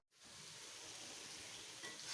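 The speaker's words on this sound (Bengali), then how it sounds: "আমি মাংস কষাচ্ছি" Meat being fried and stirred in a pan during kosha, a steady close sizzle with scraping stir sounds running continuously for a couple of seconds, no voices.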